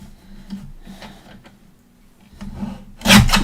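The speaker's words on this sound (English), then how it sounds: "Oh, I need to trim that a bit." Someone trims a handmade paper Halloween monster postcard with a few soft, close scraping cuts, then a louder rasping cut at the end.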